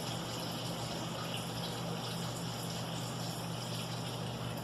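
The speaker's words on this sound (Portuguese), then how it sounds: "agora ele está ligado e ele está jogando água da cisterna para a caixa" Electric pump running steadily as it moves water from a full cistern up to an empty tank in a building's plumbing, a constant mechanical hum and rushing water held at an even level throughout with no talk.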